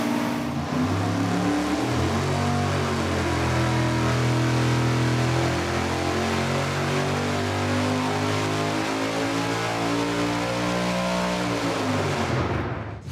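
A supercharged big-block Chevy engine of about 1,500 horsepower warms up on a dyno, a loud, steady, deep rumbling idle with a lumpy throb that continues without pause.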